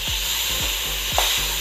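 Beef fat rendering in a pan over low to medium heat for Ilocano sinanglaw, giving a steady close broadband sizzle with a few soft low thumps of stirring, no talk.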